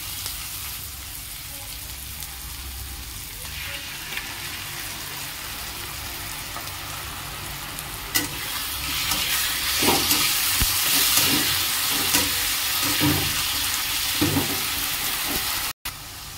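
Ginger garlic paste frying in a pan with onions for a Rohu fish curry, a steady broadband sizzle joined midway by louder clinks and scrapes of stirring.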